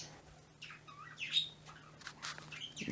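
A pet bird chirps indoors, several quick bright tweets and short calls in a loose run over a faint steady hum.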